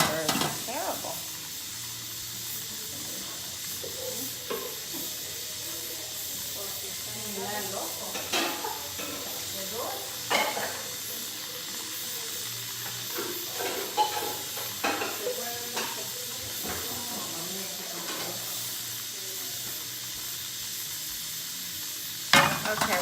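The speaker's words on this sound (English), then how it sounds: "I will saute the mushrooms." Mushrooms sauté in a frying pan with a steady sizzling hiss throughout, broken by occasional stirring clatters and scrapes, close up and moderately quiet.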